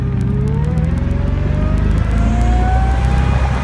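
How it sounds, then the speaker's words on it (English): A 2003 Jaguar XKR convertible with a supercharged V8, accelerating nearby: a loud engine note that climbs steadily in pitch over a few seconds, with a rising supercharger whine and no voices. "You can just hear that big supercharger kick up."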